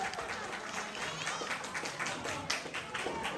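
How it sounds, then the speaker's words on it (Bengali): An audience at a Shapla annual reunion in New York applauds the president, a steady patter of many hands clapping in a hall at moderate, fairly even loudness. "তার জন্য একটা হাততালি সম্মানিত প্রেসিডেন্ট।"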